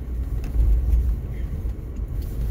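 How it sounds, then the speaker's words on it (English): Steady low rumble and road noise from inside a car driving over rough, beat-up city streets, with a continuous heavy drone and faint rattles throughout, close and fairly loud with no talking. "that's not just my car being a rattle can"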